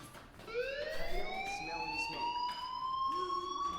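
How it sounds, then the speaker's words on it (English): A school fire alarm in the video game Life is Strange rings as a steady rising electronic siren tone with bright harmonics, holding continuously through the moment at moderate loudness. "do you hear that fire alarm?"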